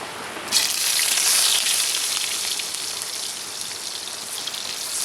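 Steady morning rain pours down, a dense, even hiss of drops on surfaces that swells in suddenly after a moment of quiet and then holds constant, close and loud, with no voices.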